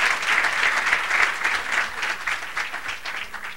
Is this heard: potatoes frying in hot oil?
no